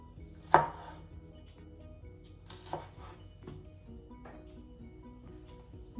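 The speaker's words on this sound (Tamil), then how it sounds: "இப்போ இந்த பாவக்காயை நாங்கள் வெட்டி எடுத்துக்கொள்ளுவோம்" A knife chops raw bitter melon on a board, giving a few sharp, separate cuts spaced out over a quiet kitchen background.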